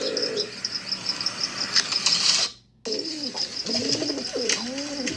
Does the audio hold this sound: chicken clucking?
no